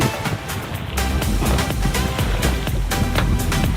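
Choppy waves on water while fishing for tilapia, a loud, constant rushing wash of surf and wind buffeting close by with no pauses.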